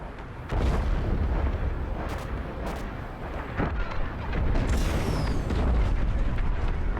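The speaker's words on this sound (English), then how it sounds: "The frigate is about to explode." A frigate blows up in a Star Wars: Squadrons space battle, a heavy rumbling explosion that swells into a sustained roaring blast with layered booms and crackles, loud and close.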